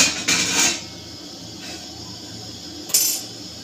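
A tawa griddle is set down on a gas stove before rava-coated Bombay duck is fried. Two clear metallic clanks sound close by, one near the start and another about three seconds later, with quiet kitchen ambience between them.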